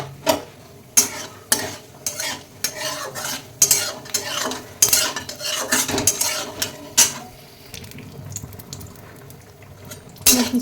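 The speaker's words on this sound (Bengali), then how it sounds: "কিছু বাদাম ভেজে নেব।" Nuts frying in a pan with a soft sizzle, under repeated sharp scrapes and clinks from a spatula stirring against the metal, coming in an irregular rhythm up close.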